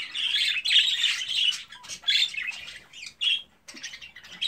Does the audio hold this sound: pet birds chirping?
yes